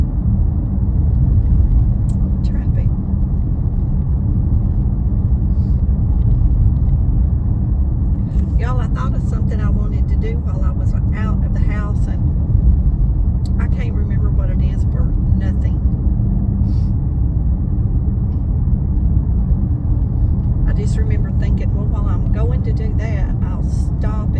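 Steady, loud road traffic rumble on a usually busy road, a continuous low drone of cars passing nearby with occasional brighter hiss and clatter, and a voice speaking over it at times.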